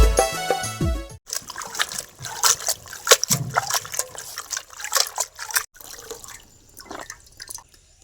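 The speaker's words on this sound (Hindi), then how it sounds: "हम बाल्टी में साग के डालाती धोवेले" Leafy saag greens are being washed in a bucket of water, with close splashing, dripping and sloshing in irregular bursts that follow a short burst of music.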